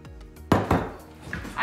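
Rinsed pinto beans, black beans and corn go into a bowl in a short clatter, with a couple of close clinks and knocks against the dish.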